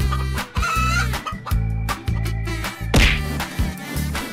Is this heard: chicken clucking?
yes